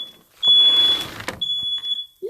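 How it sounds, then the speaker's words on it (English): A smoke alarm's high electronic tone rings out in bursts over clattering and rustling, a piercing chirp that keeps sounding between brief pauses. "Oh, and I set the smoke alarm off."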